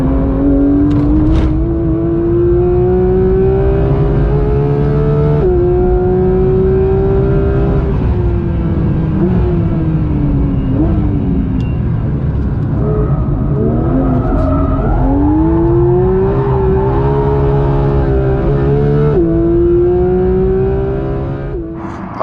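A Porsche 911 GT3 (992) engine with long-tube headers revs loudly and close, its pitch rising and falling through several throttle blips and gear changes.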